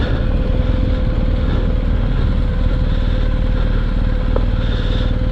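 Harley-Davidson motorcycles ride along a remote road, a loud continuous low engine rumble with steady drone and no pauses.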